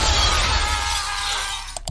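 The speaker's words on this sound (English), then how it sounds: "Glass rains down, shards fly like bullets." A glass bridge shatters in a Squid Game scene, a sustained loud crash of breaking glass that fades slightly before a few small clinks at the end.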